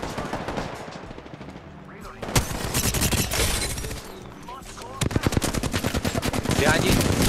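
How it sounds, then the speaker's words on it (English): Loud automatic gunfire from the video game Apex Legends comes in rapid bursts and sustained volleys, growing denser toward the end, with game sounds layered underneath. "I'm gonna keep shooting."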